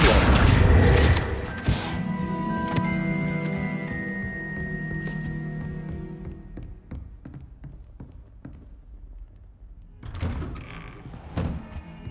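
In Hogwarts Legacy, the Accio spell is cast with a loud magical whoosh and impact at the start, followed by ringing, fading tones and scattered thuds, then another burst of effects near the end.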